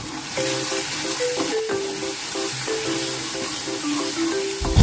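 Spiced paste with turmeric and red chili powder frying over a medium flame in a pan, a steady, close sizzle running throughout with faint clinks of stirring and no talk.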